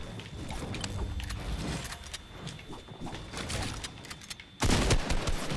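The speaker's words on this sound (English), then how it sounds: "This shotgun's not good." Shotgun blasts and other gunfire in the Fortnite video game, rapid loud bursts over dense game noise, ending in a sharper, louder blast.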